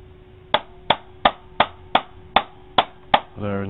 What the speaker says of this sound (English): Actually I had to tap it with a hammer.